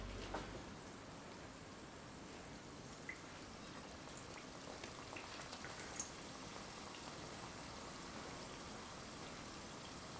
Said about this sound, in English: I am frying these on medium to low heat.